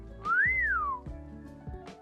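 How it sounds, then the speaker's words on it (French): A kettle whistles once, close and clear, its shrill tone rising and then falling away, with a few dull low thumps around it. "Mais la bouilloire sifflait plus fort que de l'habitude"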